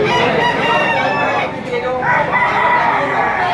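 A rooster crows loudly and close by among full-grown stags for sale at a busy Batangas fowl market, with other birds and faint chatter filling the background.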